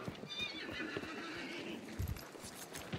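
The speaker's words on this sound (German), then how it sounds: "Oh, da ist ein Pferd." A horse in the Western shooter game Hunt: Showdown gives a loud whinny alongside clip-clopping hooves for about three seconds, heard on its own without talk.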